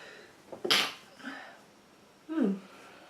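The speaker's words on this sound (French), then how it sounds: "je vais éternuer." A single close sneeze bursts out after a short inhale, followed by quiet breathing and a brief vocal sound.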